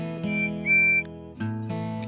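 A short, bright whistle toots in two bursts, the first held about a second with a rising pitch, then a brief pause before a second shorter blast.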